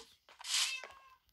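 A Minecraft cat gives a single short, high meow, clear and close, framed by faint game noise.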